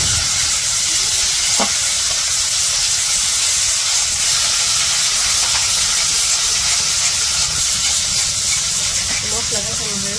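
Onion, green chilli, turmeric, chilli powder, coriander powder, salt and ginger-garlic paste fry in a pan for a Bangladeshi village fish curry, giving a steady, close sizzling hiss that never lets up.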